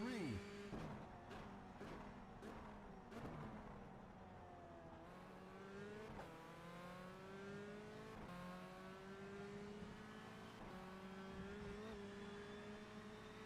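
A Renault Clio Cup race car in a racing video game at the Mores circuit, its engine revving up and down through repeated gear shifts in a steady whine that rises and drops, heard continuously over a faint background.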